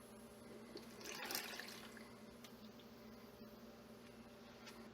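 Young coconut water poured into a blender, a steady close splashing trickle with a brief louder burst of liquid early on, no voices.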